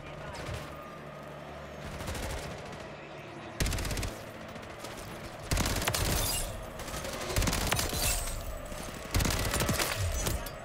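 SMG fire in Modern Warfare 3 comes as repeated automatic bursts with scattered game explosions and effects, growing louder in the later half, with a player's voice mixed in.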